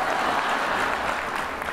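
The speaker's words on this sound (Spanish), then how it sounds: "Aplausos." Audience applause at a live comedy show, a steady wash of clapping from a crowd, loud and sustained throughout without speech over it.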